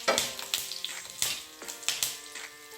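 Curry leaves dropped into hot oil with roasted garlic in a pan for raw tomato chutney crackle and sizzle, with a steady frying hiss broken by sharp spitting pops at a near, moderate level.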